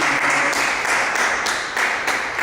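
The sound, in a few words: church congregation applause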